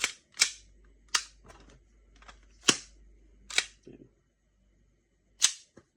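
A WE Hi Capa 5.1R airsoft pistol fires about six sharp snapping shots at irregular intervals, with faint mechanical clicks in between.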